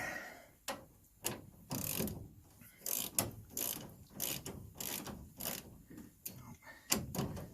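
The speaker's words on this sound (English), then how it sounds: "Get the ratchet on it." A ratchet wrench works a bolt on a manual steering box being installed in a G-body car, clicking in repeated bursts of quick close ratcheting strokes with short pauses between them, alone without talk.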